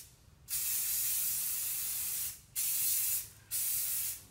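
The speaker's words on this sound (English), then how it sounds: "Make sure you spray about 1 foot apart" Flat gray spray primer hissing from an aerosol can onto a helmet, three sharp bursts, the first about two seconds long and two shorter ones after, close and loud with quiet gaps between.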